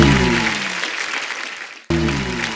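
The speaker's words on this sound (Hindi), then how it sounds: "उनके लिए दिल खोल के तालियां।" Steady applause from a TV comedy show studio audience with a low sustained tone beneath it, briefly cutting out before resuming.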